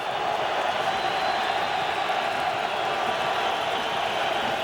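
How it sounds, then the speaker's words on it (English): A stadium crowd at an NFL playoff game between the New York Jets and Oakland Raiders fills the air with a steady, moderate wash of noise, continuous and unbroken, without distinct cheers rising out of it. "Crowd noise is just not that big right now."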